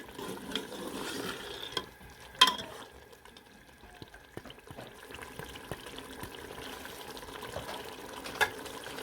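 Mutton korma sautés in a pot over medium heat, giving a low continuous sizzle with scattered spoon scrapes and a few sharper clanks against the pot.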